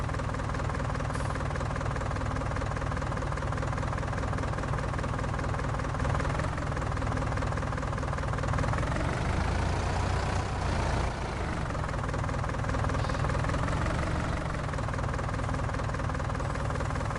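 A tractor engine in the video game Farming Simulator 19 drones continuously, a steady mechanical hum with harmonic layers that rises and dips slightly in pitch as it works, close and even throughout.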